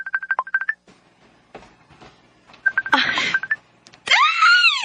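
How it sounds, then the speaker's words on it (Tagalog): Telephone keypad dialing tones beep in quick bursts, followed by a ringing call tone and then a loud warbling electronic ring, fairly close and clear with no talk over them. "Nanawag si Rex"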